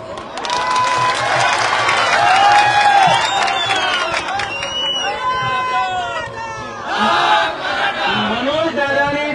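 A large crowd at a Maratha reservation protest march led by an activist, with a dense, steady hubbub of many voices, scattered shouts and calls, and closer speech rising above the crowd noise.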